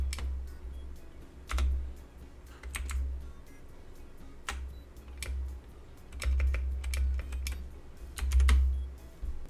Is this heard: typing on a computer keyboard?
yes